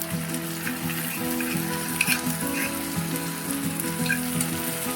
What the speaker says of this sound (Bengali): এবার এটা আমি এর সাথে কষিয়ে নেবো, ভালো করে কষিয়ে নিচ্ছি।